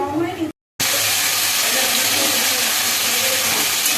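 Potatoes fry in a generous amount of mustard oil in a wok, giving a loud, steady, dense sizzle that runs almost the whole time. It cuts out once, briefly, near the start.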